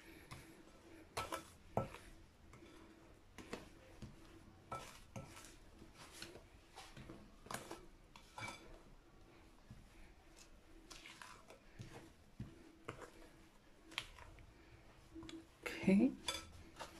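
A spatula mixes Hertzoggie batter in a bowl, giving soft scraping with scattered light clinks and taps against the bowl, fairly quiet and steady.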